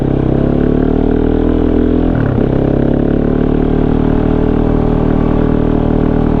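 A Kove 450 motorcycle with an off-road airbox and Dominator exhaust hums steadily at low revs in second gear, a constant droning note with a brief dip and rise in pitch partway through.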